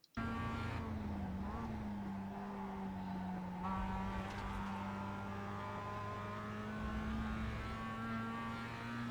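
A Mazda MX5 engine drones steadily under throttle at Laguna Seca in the iRacing sim, pitch climbing gradually with a shift change early on, loud and continuous throughout.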